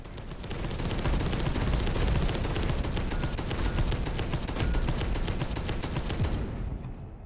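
A turret opens up in Space Hulk: Deathwing, a rapid, unbroken stream of loud automatic gunfire hammering for several seconds before cutting off abruptly, with no voices over it.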